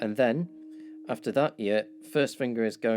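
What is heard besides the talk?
No everyday noises stand out.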